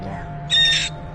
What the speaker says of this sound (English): You know how parrots, they mimic the voice that they hear? Look at the screams, the high-pitched screams.